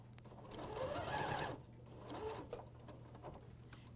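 An AirThread 2000D professional serger runs in bursts while sewing a bathrobe, a steady mechanical whir about a second and a half long, then a pause and shorter stitching runs, with a constant low hum underneath.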